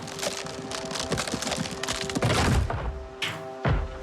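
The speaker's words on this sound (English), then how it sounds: "we're gonna unbarricade this window" Wooden creaks, thunks and cracking as planks are pried off a barricaded window in Project Zomboid, with rain-like hiss beneath and a couple of heavier knocks near the end.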